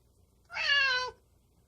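One clear, fairly close meow from a cat eating dry cat food, a single drawn-out cry of about half a second rising from a quiet background.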